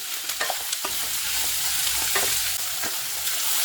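Onions and curry leaves sautéing in a pan sizzle continuously up close, with repeated scraping stir strokes against the pan at an uneven rhythm and no voices.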